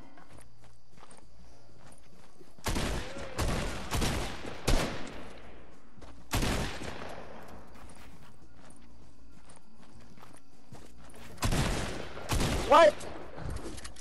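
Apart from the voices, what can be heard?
gunfire in the video game Fortnite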